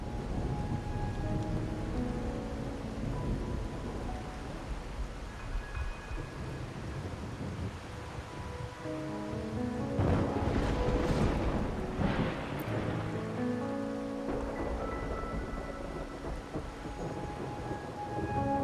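Steady rain with rolling thunder in the video game Wuthering Waves, a continuous downpour that swells into a louder thunder rumble midway, with no one speaking.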